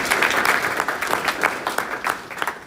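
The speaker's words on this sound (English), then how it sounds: "Give a Randy a round of applause" Hackathon audience at the opening remarks of a Llama event gives a speaker a round of applause. It is a smaller crowd, with individual claps standing out in an uneven, pulsing patter that stays fairly close and loud.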